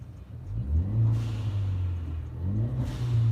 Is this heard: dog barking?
no